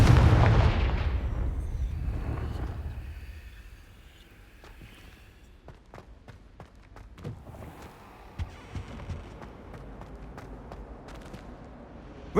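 Confringo fire spell from Hogwarts Legacy bursting in a loud blast that fades away, followed by quieter scattered sharp impacts and footsteps.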